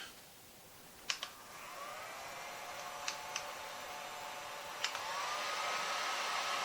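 A heat gun, used for making DIY fishing spinners, blows with a steady, faint whooshing roar and a thin, rising whine, while a few sharp clicks break through.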